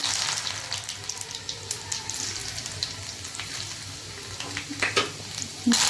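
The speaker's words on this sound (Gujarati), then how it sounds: "આપણું તેલ ગરમ થઈ ગયું છે. આપણે હવે રાઈ મેથી નાખશું, જીરું અને લસણની કટકી" Mustard seeds, fenugreek, cumin and chopped garlic sizzle in hot oil in a home kitchen, a steady close crackle with scattered pops and a few louder spits.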